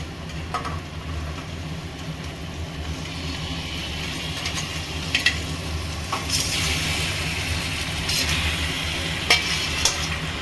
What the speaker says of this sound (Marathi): तर त्यात आपण आता पास्ता टाकूया